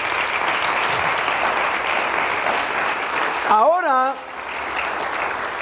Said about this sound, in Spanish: Si le va a dar palmas, denles al Señor